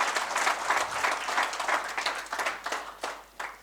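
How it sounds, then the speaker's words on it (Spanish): An audience at a road safety report presentation event applauds, a full, fairly loud round of clapping with uneven surges that tapers slightly toward the end. "os pido el aplauso preventivo, que es el aplauso de antes de que empiecen a contarnos todo lo que nos van a contar"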